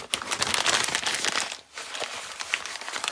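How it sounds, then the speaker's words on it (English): Packing paper is crumpled by hand beside a bubble wrap mailer, giving close, loud crinkling and crackling in steady bursts with a brief pause midway. "I'm gonna crumple that up to the size and put that in the end."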